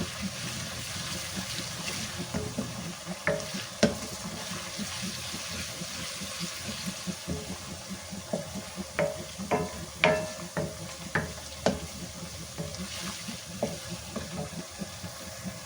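Steady sizzling of spices, including fenugreek seeds, frying in hot oil as tempering, with occasional stirring clinks and scrapes scattered throughout; no voices.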